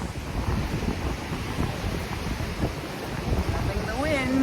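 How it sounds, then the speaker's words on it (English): Strong wind gusting on a coastal walking track by the sea, a continuous rushing roar buffeting the microphone with surf-like noise beneath and a voice speaking briefly near the end. "Loving the wind."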